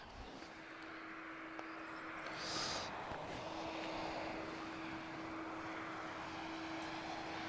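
A jet airliner departing Lisbon Airport roars in the distance as it climbs away, a steady broad rumble with a faint tonal hum, swelling slightly midway.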